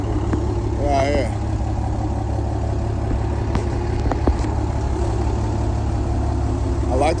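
Diesel truck engine idling steadily at a Florida truck meet, a low constant rumble throughout with voices talking over it and brief sharper noises mid-clip.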